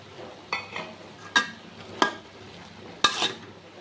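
Fish heads going into a hot pan with cumin and chillies, giving a few separate bursts of sizzle and clatter against a low background of frying, close and moderately loud.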